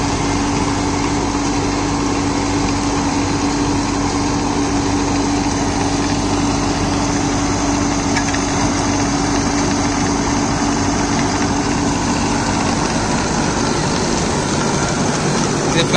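Tractor engine held steady at 1600 rpm in 4th creeper gear, droning loud and constant throughout with no letup.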